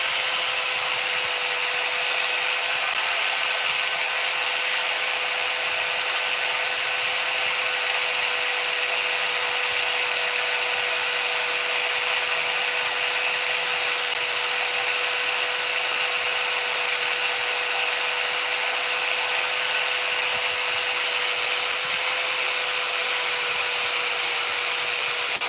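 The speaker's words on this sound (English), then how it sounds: "this sandpaper works really good" A power sander runs on a chainsaw-carved wooden Minecraft Steve figure, giving a constant loud whirring drone with a steady high-pitched tone throughout and no breaks.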